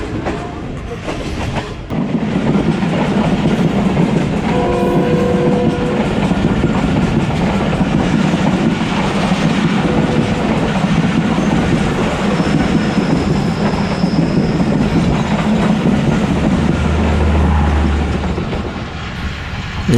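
The 102 Down train passes at speed, overtaking the Allama Iqbal Express on the Sialkot to Lahore line, with a loud, continuous roar and rhythmic clatter of wheels very close by, a brief horn-like tone and a squeal partway through.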